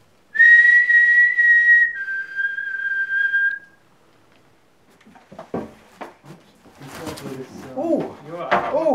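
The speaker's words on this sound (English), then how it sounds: "Whistle again." Two long whistled notes inside an old theatre, the second slightly lower, ring out clearly, then give way to people talking and some clattering.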